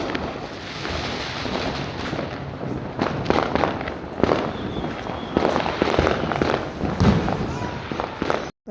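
Diwali firecrackers and fireworks are set off during an evening family celebration: repeated loud, sharp bangs and crackling bursts, some near and some farther off, over a continuous background din.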